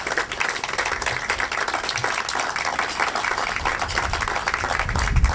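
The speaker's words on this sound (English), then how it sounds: "let's give a big round of applause to the company here, Hann" Steady, dense applause from a large audience honoring Hann Powerboats at an award presentation, sustained clapping throughout with no break and a slight swell near the end.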